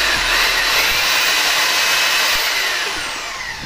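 A repaired DeWalt hammer drill, fitted with a new armature and pinion, spins steadily at high speed with a continuous whine that eases slightly toward the end, running alone without any voices.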